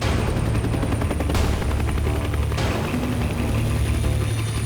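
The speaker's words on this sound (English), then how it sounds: "I can hear a chopper." A helicopter flies overhead at an outdoor cooking challenge, a loud, steady rotor roar and thrum that fills the whole stretch with no talk over it.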